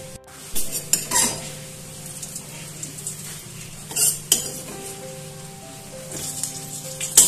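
Fried pieces for a potato chop stuffing are lifted from a kadai onto a metal plate, giving a few sharp clinks and scrapes of metal against metal over a faint background sizzle, with no talking.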